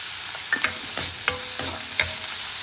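Red chillies, onion and tamarind sauté in a hot pan, a continuous sizzle broken by several sharp scrapes and clinks of a stirring spoon.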